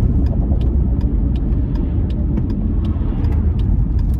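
A Volkswagen Golf Mk4 with a damaged driveshaft being driven, its loud, steady low engine and road rumble filling the cabin with faint clicks and ticks above it, no talking.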